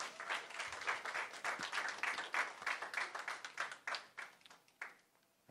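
Audience applause at a board of education meeting, a dense steady clapping that fills the room for several seconds before tapering off near the end, with no talk over it.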